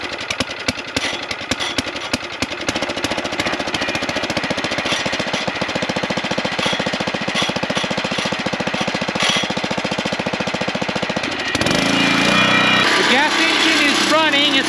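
Small gasoline engine on a ranch, started with choke and a little throttle, running loudly with a fast, steady chugging hammer throughout, its tone shifting near the end.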